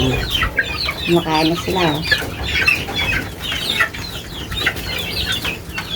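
Chicks in a bamboo coop peep and cluck close by in a steady, overlapping chatter, with someone speaking briefly over them.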